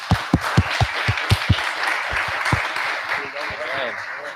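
Applause for a real estate presenter, heard as a handful of loud, distinct claps close by in an uneven rhythm, then a quieter patter of clapping that thins out, with faint voices underneath toward the end.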